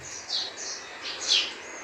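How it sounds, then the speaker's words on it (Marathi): An Oriental magpie robin (dayal), a male bird found around human settlements, gives several high, clear whistled call notes in short bursts, moderately close and fairly quiet with no talking. "सर्वदूर आढळणारा असा हा ओरिएंटल मॅक्पिल रॉबिन"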